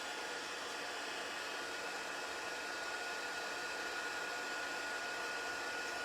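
A heat tool blows steadily as it melts embossing powder on a handmade card. The whirring hiss is even and continuous, quiet and close, with no talking over it.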